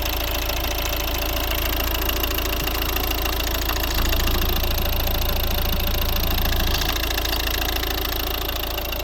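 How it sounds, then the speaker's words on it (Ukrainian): A 2012 Volvo V50 with a 1.6 D2 diesel engine of 115 horsepower and 8 valves idles close by, giving a loud, steady knocking clatter with a constant low drone throughout and no voices. "ось робота двигуна"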